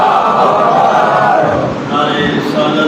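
A large crowd of mourners at a Muharram majlis roars back in loud unison to the Naara-e-Takbeer slogan, a sustained massed shout that dips briefly and then swells again.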